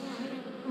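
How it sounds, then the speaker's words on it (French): A brief, faint buzz of bees humming steadily nearby during swarming, with no other sounds. "Attention les petites abeilles."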